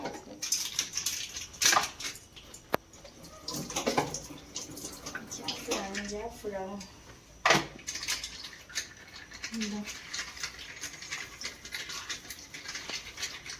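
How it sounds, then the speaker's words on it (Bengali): A small jar is rinsed under running water in a home kitchen while cooking chicken pakora, with splashing water, clattering glass and brief knocks, and a voice talking at moments in between. "এটা আমি জড়িটা একটু ধুয়ে দিয়ে দিই"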